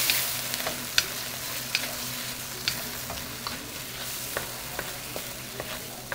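Egg setting in a pan for pad thai is stirred and broken up against a steady frying sizzle, with a regular series of sharp scrapes and taps from the utensil spaced about a second apart.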